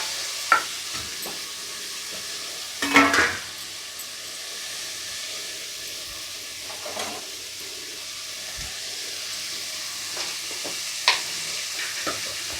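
Tomatoes frying and being stirred in a pan for a green peas gravy: a steady soft sizzle runs throughout, with a few scattered utensil clacks and stirring scrapes, close by and without talk.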